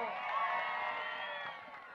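A crowd at a political rally in Taita Taveta cheers and shouts in a dense, sustained roar that fades slightly toward the end.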